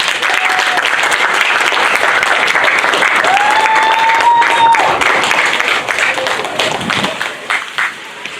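An audience at a storytelling session of the Celebrate Micronesia Festival claps steadily and fairly close, a dense wash of applause that thins out toward the end, with a few voices and whoops mixed in.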